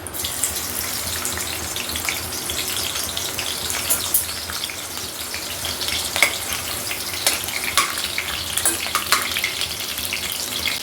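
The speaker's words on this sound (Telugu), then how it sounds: "ఆయిల్ వేడి అయిందండి. కొంచెం ఆనియన్ కొంచెం వేద్దాం." Onion hits hot oil in a pan and fries with a steady loud sizzle and crackle, close up, with occasional stirring clinks and no talking.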